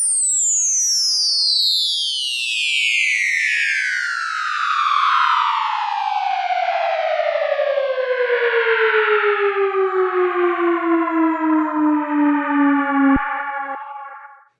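A synth effect processed with stereo delay and reverb: a long, loud descending siren-like sweep with rich echoing harmonics that slowly falls in pitch, pulses near the end and cuts off abruptly.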